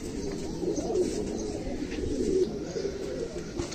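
Pigeons being readied for release coo in low, rolling murmurs, close and steady, over constant background noise with faint voices.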